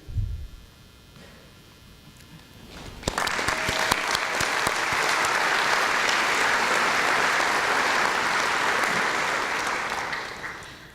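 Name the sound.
audience applause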